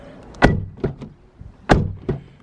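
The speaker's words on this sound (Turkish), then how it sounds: "Oldukça yine tok bir kapı hissiyatımız mevcut. Ağır bir kapı hissiyatı var." Car doors on a Hyundai ix35 2.0 CRDi diesel 4x4 are shut in sequence: four or five heavy, solid thuds, two of them sharply louder, close by with short gaps between, and no talk.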